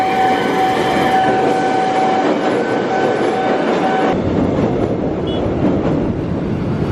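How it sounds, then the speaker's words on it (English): A railroad crossing bell rings in steady tones over the loud rumble and rattle of a passing train nearby in Jakarta. "The sound that the train crossing makes is so annoying."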